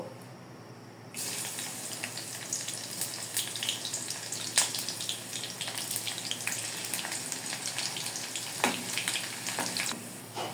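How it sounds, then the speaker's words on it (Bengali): Chopped garlic fries in hot white oil in a wok: a steady crackling sizzle starts suddenly after a quiet second and keeps going, with sharp pops scattered through it. "এখন আমি এখানে কিছু রসুন কুচি দিয়ে দিব"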